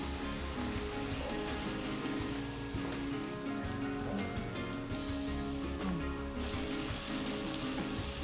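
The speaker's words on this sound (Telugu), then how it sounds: "కొంచెం ఈ మామిడికాయ తురుముని బాగా ఫ్రై చేసుకోవాలి." Grated raw mango fries in oil for mango pulihora, giving a continuous soft sizzle and crackle like light rain, close and steady throughout.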